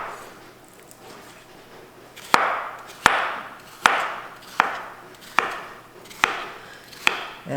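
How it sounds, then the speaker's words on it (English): A knife chopping peeled, seeded zucchini into half-inch cubes: eight crisp, evenly paced strokes on a cutting board, about one every three quarters of a second, close and clear over a faint room hiss, with no speech. "Then I cut it into about 1/2 inch cubes."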